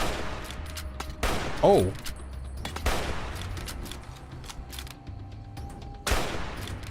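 Hunting rifle gunfire in Fallout: New Vegas Honest Hearts, with several sharp shots spread across the clip amid game ambience and a brief exclaimed voice.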